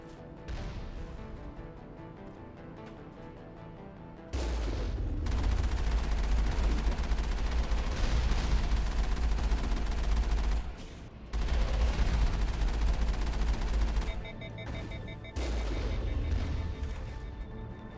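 Gunfire aimed at the player in the video game Mass Effect, loud bursts of rapid shots in sustained volleys with brief pauses between them, filling most of the clip.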